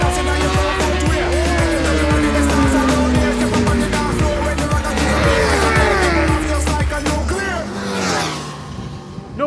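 A high-revving Ducati Multistrada 1260 S motorcycle screams around the Buddh International Circuit during a track day, its pitch climbing and dropping through gear changes, loud and close, with faint voices beneath.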